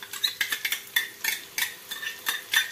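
Onion cooked soft and reddish being stirred with green chili and ginger-garlic paste for prawn rice, a spatula scraping and clinking against the pan in a rapid, steady rhythm over a faint sizzle, close by with no talking.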